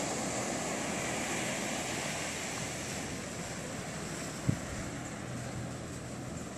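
Surf rolls steadily onto a rocky Algarve beach near Albufeira, a continuous wash of waves mixed with wind rumble and one brief thump partway through, with no talking.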